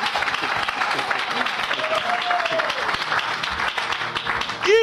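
A church congregation applauds and cheers in sustained loud clapping, with voices mixed into the crowd noise throughout.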